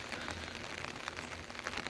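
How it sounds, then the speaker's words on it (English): Rain falls steadily on Bowen Island by the water, a soft, even patter of drops close by with no voices. "it is raining"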